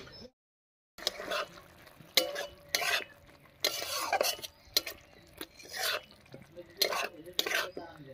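Onion and spice masala, steamed under a lid, is stirred in a pan for a hotel-style duck egg curry: repeated scraping strokes in an uneven rhythm over a light sizzle, near and clear, with no talking.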